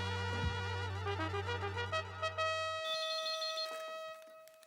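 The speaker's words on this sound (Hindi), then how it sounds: "मैं गोली को फोन कर लेता हूँ।" A phone ringback tone sounds on an outgoing mobile call, a steady electronic ringing pattern that repeats clearly and fairly loudly, with no talk over it.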